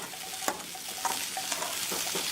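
Potato fry (urulaikizhangu varuval) crisping in an open pan while being stirred, with steady frying hiss and spaced spatula scrapes and taps against the pan, close and alone without speech.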